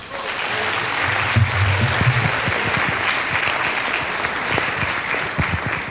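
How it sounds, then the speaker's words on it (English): An audience at a Miss Massillonian and Outstanding Senior Boy program applauds the master of ceremonies, a steady, sustained round of clapping from a large crowd. "Please give a nice round of applause for Mr. Matthew Citron"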